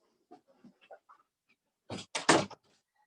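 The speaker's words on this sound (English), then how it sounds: "Let me close the door." A door closes with a quick cluster of loud thumps and a latch rattle near the end, following faint distant yelling and a dog-like voice in a quiet room.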